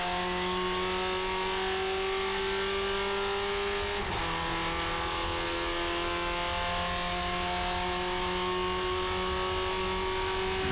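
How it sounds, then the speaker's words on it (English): On-board engine of a SsangYong racing ute, number 30, at an enduro race at Pukekohe, a loud sustained engine drone with one brief dip around a gear change before the pitch settles and holds. "On board with Murray Brook, Ute number 30."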